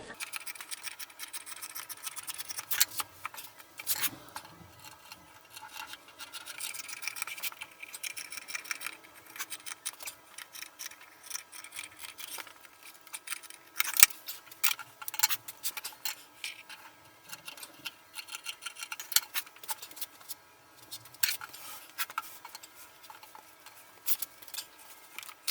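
Scissors cut through fabric material in a long run of crisp, close snips and scratchy blade strokes, some quick and clustered, others spaced apart, with no talking.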